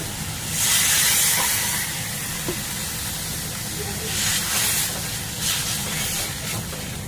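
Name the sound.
water poured into hot pan of spiced fish curry, hissing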